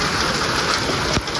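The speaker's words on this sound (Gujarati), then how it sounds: "વરસાદ આવી ગયો ગાઈસ જોઈ શકો છો." Rain falls in a steady, dense patter with no voices over it, loud and close, like a downpour on nearby surfaces.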